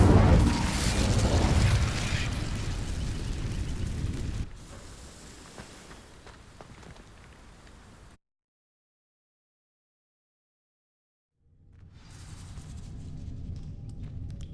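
In the Hogwarts Legacy video game, an Incendio fire spell ignites dry vines with a loud booming whoosh of flame that fades into a rumbling crackle, cuts to silence, then gives way to quieter ambient rumble.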